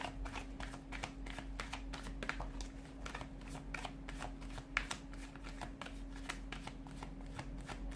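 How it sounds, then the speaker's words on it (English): Playing cards riffle in quick, crisp rapid bursts close by, fairly quiet, over a low steady hum. "give the cards a shuffle"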